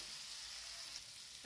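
Bitter gourd with chana dal frying in a pan as cumin, coriander, salt and turmeric are stirred in, a faint steady hiss of sizzling oil with barely audible stirring, distant and quiet, no speech.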